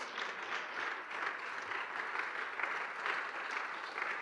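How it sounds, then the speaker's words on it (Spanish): Church congregation applauding during a Spanish-language sermon in Houston, a steady, even wash of many hands clapping, faint and somewhat distant, with no talking over it. "Denle un aplauso al Señor."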